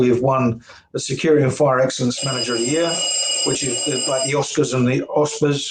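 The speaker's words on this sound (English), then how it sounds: "Someone's ringing the bell very loudly in the corridor outside." An electric bell rings loudly in a corridor outside, a steady high-pitched ringing lasting a couple of seconds beneath a person talking continuously.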